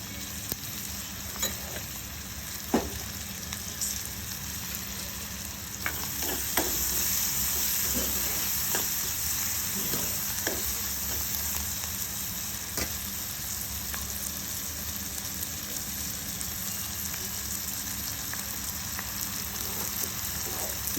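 Onions frying in a pan, a low continuous sizzle with occasional stirring clicks and scrapes, steady and close throughout with no one talking.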